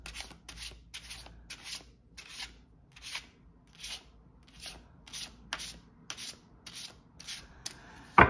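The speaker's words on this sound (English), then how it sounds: "I'm just going to shuffle the cards" A deck of cards is shuffled by hand again and again in steady riffling bursts, close and fairly quiet, with no talk, during a card reading.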